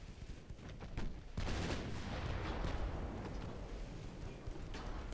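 Naval guns fire at a light cruiser in the Ultimate Admiral: Dreadnoughts naval warfare game, a dense rumbling barrage of booming shots and rolling blasts that builds after a sharp onset and stays loud throughout.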